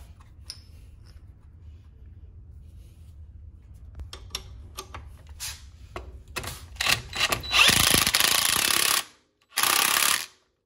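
A power tool tightens a nut onto a Can-Am wheel bearing bolt, starting as quiet scattered clicks and ending in loud bursts of whirring, rattling ratchet noise, the last two bursts sustained and close.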